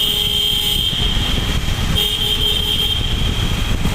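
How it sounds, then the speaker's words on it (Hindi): A car horn sounds inside a long road tunnel cut through the mountains near Dharamshala, Himachal Pradesh. Two bright honks ring out over the loud, steady roar of the vehicle moving through the echoing tunnel. "हॉर्न मारो सर जी, हॉर्न मारो।"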